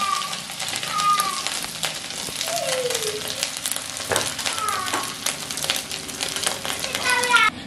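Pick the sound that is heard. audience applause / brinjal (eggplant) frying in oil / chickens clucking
brinjal (eggplant) frying in oil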